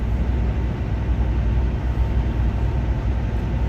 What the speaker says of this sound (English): Boys out there getting them trains ready to go this morning.